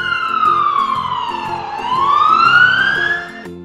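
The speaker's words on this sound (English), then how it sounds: "Black police car." A toy police car gives an electronic siren that sweeps down and back up in pitch over a repeating chirpy beat, close and fairly loud.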